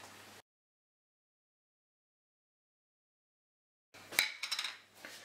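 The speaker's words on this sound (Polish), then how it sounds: "Jajka również taką kosteczkę kroimy." A knife dices boiled eggs into small cubes. After a long silence comes a short, close burst of sharp taps and clatter on the cutting surface.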